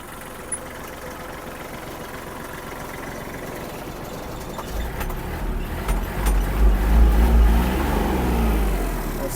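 A Japanese Kubota GL-320 mini tractor engine idles at first, then revs up around the midpoint into a loud, deep, steady roar that stays raised to the end, with no talk.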